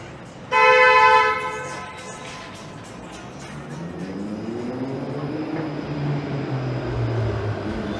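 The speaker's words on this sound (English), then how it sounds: "That cabbie might have been blocking the streetcar, hence the loud honk." A loud, sustained car horn honks once, close by, at a taxi blocking a streetcar near King Station on Yonge Street, downtown Toronto, then fades into steady street traffic noise with a vehicle rumbling past.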